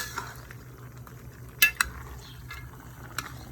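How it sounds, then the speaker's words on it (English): Pork ribs with calabacitas zucchini and sauce are stirred in a pan, with soft scraping, a few sharp utensil clinks against the metal, and a low sizzle underneath. "Just have to mix them around. Meat and vegetables and sauce."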